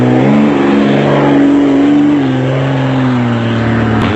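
Engine of a 1997 Toyota 1000 off-road race car, a distinctive pink special, easing through a river crossing, with a loud, steady mid-pitched drone that rises and falls gently as the throttle is held, close and continuous.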